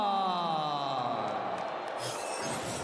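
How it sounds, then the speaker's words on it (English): A UFC arena crowd grumbles and bellows in displeasure after a stoppage, a steady broad roar of many voices with scattered shouts rising near the end. "As you can hear, the crowd isn't happy."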